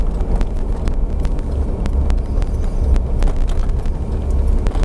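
A 1958 Rolls Royce Silver Cloud idling quietly, heard from inside the cabin at an oceanside concours: a low, smooth engine hum with faint ticks and light wind noise, steady throughout and without talk.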